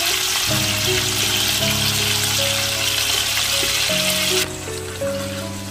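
Mutton chops frying in a pan for biryani, a loud close sizzle with steady hiss, layered under a sustained tonal hum, easing down slightly near the end.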